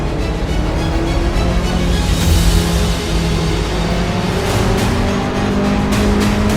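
Race car engine in the Assetto Corsa driving game at Barber Motorsports Park, a continuous loud drone holding steady throughout with slight pitch shifts, no talk.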